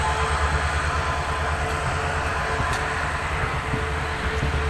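A steady low rumble of the New Bongaigaon–Guwahati passenger train departing a station, continuous and fairly close, with no voices.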